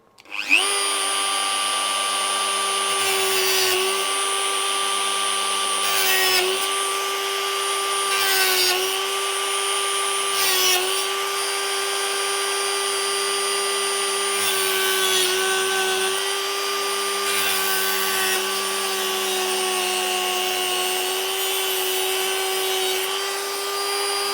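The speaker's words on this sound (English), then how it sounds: "I've changed the drill in the Dremel over to the cutting disc, so we can cut through the rail heads now" A Dremel fitted with a cutting disc grinds through model railway rail heads, a steady high whine with repeated short cuts and pauses, loud and close with no talking.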